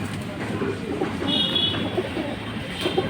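Pigeons coo softly and repeatedly in a racing pigeon loft in Tangail, with a low, steady murmur of calls filling the short stretch.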